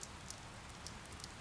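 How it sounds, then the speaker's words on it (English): Soft, steady rain patters in the Fire Emblem Three Houses video game, a faint, even hiss with scattered light drop ticks and no voices. "It's raining, Professor."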